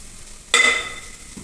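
A sharp burst of sizzling as spices are stirred in a pan over a low flame, flaring loudly then fading into a quiet hiss within a second.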